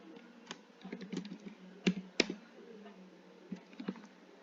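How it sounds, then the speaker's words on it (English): Someone types on a computer keyboard while writing HTML code, producing quiet, irregular keystroke clicks with a few sharper taps in a soft, close run. "and just typing some sample names"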